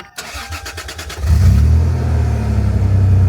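A manual Toyota 4Runner engine cranks with a rapid chugging starter whir, then catches and settles into a loud, steady idle up close, with no talking.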